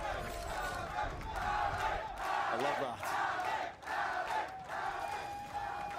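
A large crowd at a Valorant esports match in the VCT Americas Kickoff, NRG vs Furia, cheers and roars loudly and steadily in the arena, with a commentator speaking over the noise.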